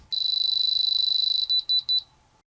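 A diamond tester alarm, triggered by the probe touching metal, sounds a continuous high-pitched electronic tone for over a second, then breaks into four quick beeps before stopping; close and loud.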